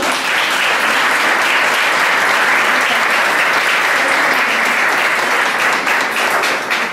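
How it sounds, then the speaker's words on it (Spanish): Loud, sustained applause from an audience for a teacher at a book presentation on school inequality and teacher training, a dense steady wash of clapping throughout with no break. "yo le doy un fuerte aplauso"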